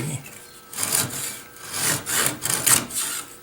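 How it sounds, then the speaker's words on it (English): Hand saw rasping through excess wood on a dovetail repair, trimming off dowel and tenon stubs flush at the surface; steady back-and-forth strokes, close and fairly loud, about five or six strokes with no talk. "So we'll use this to saw away"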